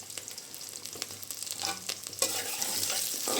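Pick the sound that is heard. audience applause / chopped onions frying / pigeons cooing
chopped onions frying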